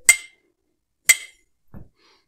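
A drinking glass is struck twice, giving two sharp, bright ringing clinks about a second apart with short decays, then a faint, softer knock; no talking.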